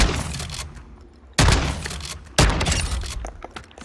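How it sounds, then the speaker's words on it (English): Bryson 890 pump-action shotgun in Call of Duty Modern Warfare II, fired twice about a second apart, each a sharp loud blast with a short decaying tail over quieter game ambience. "you have a pump action flamethrower, more or less"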